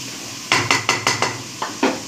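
A lid set on a cooking pot during a chicken, bottle gourd and rice dish, giving a quick series of about seven sharp metallic clinks and rattles close by, with a faint background hum and no talk.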